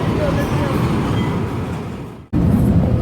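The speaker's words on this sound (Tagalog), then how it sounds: "Ang aming train, ang aming LRT, parating na po siya." A light rail train rumbles in loudly and close, a steady heavy roar of wheels and motor with a brief dropout near the end.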